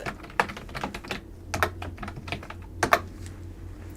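Steady, close tapping on a computer keyboard, quick irregular keystrokes with a few louder clacks, continuous for several seconds with no talk.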